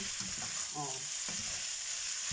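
Fried rice sizzling in a hot pan, a short steady hiss of frying with a few stirring scrapes, fairly faint and without talk.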